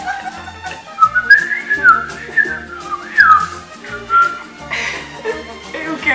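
A person whistles a lively melodic tune up close, loud and bright with fluttering pitch slides, over a faint background of music.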